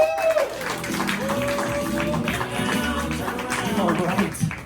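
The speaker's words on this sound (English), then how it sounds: "put your hands together for a very good friend of mine" Audience applause and crowd noise fill the room as comedian Trevor Andersen is welcomed to the stage at a clean stand-up comedy set, a steady, dense wash of clapping with music-like tonal sounds mixed in.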